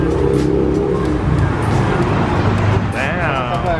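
A BMW M6 with a straight-piped exhaust after muffler and resonator delete gives a deep, steady rumble that runs throughout, with voices faintly audible nearby.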